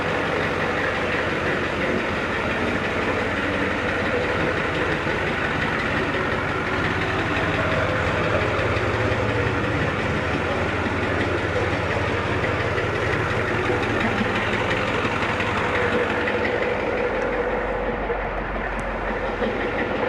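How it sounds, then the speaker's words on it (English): A 1994 Ford F250 diesel truck engine runs steadily for the whole stretch, a loud, continuous rumbling drone with broadband clatter and no speech. "Gotta love the way a diesel sound."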